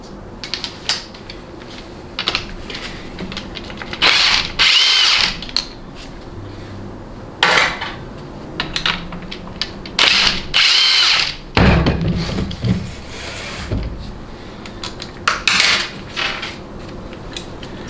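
A power tool with a 13mm socket spins off the bolts holding the actuator motor on a Dodge 48RE transmission assembly, in repeated short loud bursts separated by pauses and clicks.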